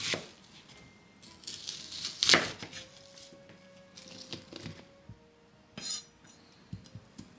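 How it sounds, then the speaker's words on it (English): A knife cuts an onion into pieces on a cutting board for a meat and potato stew, giving a few scattered, close chops and clacks with a sharp knock near the middle and softer taps later, no voices. "Cut the other half of the onion into 6 equal pieces."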